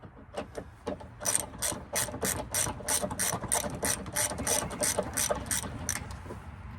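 A ratchet wrench works bumper bolts on a Dakota truck with a fast, steady series of sharp metallic clicks, close and fairly quiet, a few scattered clicks at first and then a run of evenly spaced strokes.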